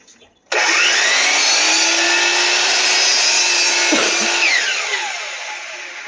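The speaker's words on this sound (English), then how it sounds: "So I'm going to cut it as though I'm mitering it, an inside miter, inside 45." A power miter saw cuts through crown molding at an inside 45-degree angle, a sudden loud whine that bites into the wood, holds steady for several seconds, then winds down.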